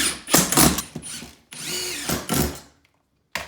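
A power drill drives screws into an aluminium shower door frame, giving two loud whirring bursts with rising pitch, separated by short pauses, close up and without talk.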